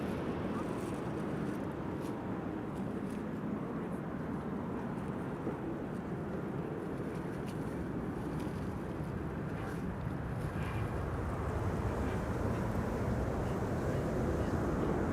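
An Iberia airliner arriving from Madrid at Schiphol produces a steady, broad engine roar throughout, heard from a distance under wind noise on the microphone.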